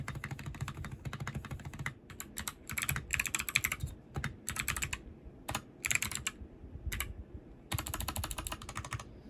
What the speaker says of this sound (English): This sound test is with the Bossi Doubleshot PBT keycaps.